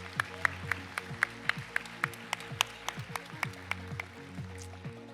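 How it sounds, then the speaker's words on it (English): Applause for a player at a 1v1 gaming tournament, sparse, distinct claps from a small group, fairly faint and continuing steadily throughout. "Round of applause for NINERIK, everyone."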